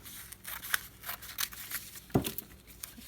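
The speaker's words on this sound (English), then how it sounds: "At least I know where I have to cut now, so I'm going to cut the rest of this out." Scissors snip through paper while a mini book cover is cut out by hand, giving a series of short, close, crisp cuts and rustles, with one louder chop near the end.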